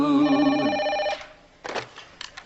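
A telephone rings close by with a warbling electronic tone for about a second. Brief shuffling and a short voice follow after it stops.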